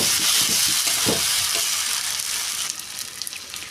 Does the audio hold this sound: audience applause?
no